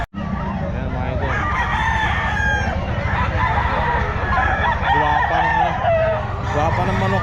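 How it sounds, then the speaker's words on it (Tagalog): Roosters crow repeatedly and hens cluck at a busy poultry and pet market, loud and close, with overlapping calls and people talking in the background throughout. "Guwapa ng manok ni Boss Dama."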